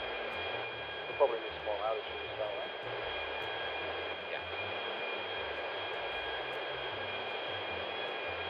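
A video game airplane engine drones steadily in the background, a constant thin hum heard through muffled, radio-like sound while voices talk over it.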